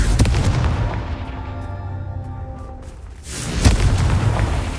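A Confringo explosive spell goes off in Hogwarts Legacy: a loud booming blast rings and slowly decays, then a second heavy boom erupts near the end.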